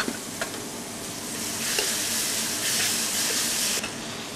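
Crushed tomatoes and fried onion stew in a pan in an Argentine restaurant kitchen in Tallinn, giving a steady close sizzle and bubbling hiss that swells slightly, with faint stirring scrapes.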